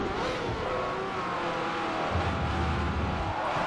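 A race car engine roars steadily in Forza Motorsport 4 during a Ferrari sports club race, loud and sustained, with a deeper throaty rise toward the end.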